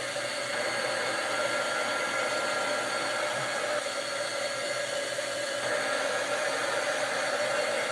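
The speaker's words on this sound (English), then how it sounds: "my heat tool does get pretty hot" A heat tool blows hot air onto pool-noodle peppermint stick crafts, giving a steady, loud, even whoosh that runs unbroken for the whole stretch with no talking.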